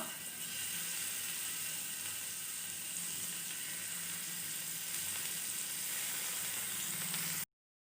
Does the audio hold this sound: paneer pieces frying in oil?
yes